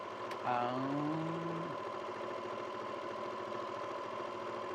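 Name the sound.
sewing machine stitching inside seam allowance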